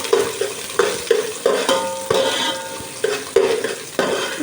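Ginger and garlic sizzle in oil in a pan for a chicken curry while a spoon stirs with steady scraping strokes, loud and close, the frying hiss continuous underneath, with no talking.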